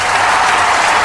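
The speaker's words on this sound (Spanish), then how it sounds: "¡Aplauso, mierda!" A short, loud burst of dense applause from a crowd at a costume contest, steady throughout with no speech over it.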